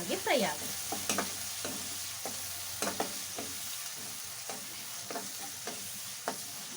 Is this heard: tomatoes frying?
yes